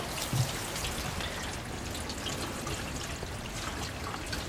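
Water runs from a hydroponic growing system on a farm just after being switched on, a steady close patter and trickle like falling drops, continuous and fairly soft with no talking.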